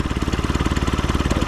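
A 71-year-old Ford four-cylinder engine in a Mutt idles close by, a loud, steady, rapid chugging pulse with even rhythm and no talk.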